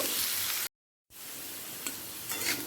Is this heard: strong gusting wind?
no